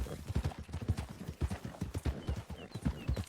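Horse hooves clip-clop in a steady, brisk rhythm in Red Dead Redemption 2, close and clear, with a faint snort or whinny mixed in.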